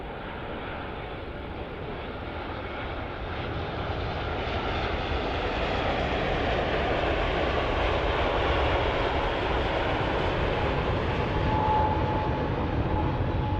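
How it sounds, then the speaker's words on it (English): A Japan Airlines Boeing 787 Dreamliner touches down on runway 22 left at Helsinki Airport, its steady, broad engine roar swelling slightly as the aircraft passes, with no talk over it. "this Japan Dreamliner is now about to touch down here on runway 22 left"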